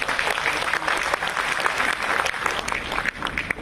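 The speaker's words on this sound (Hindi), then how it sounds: "उनके लिए जोरदार तालियां।" An audience at a mushaira, an Urdu poetry gathering, breaks into loud, dense applause that stays steady and close throughout.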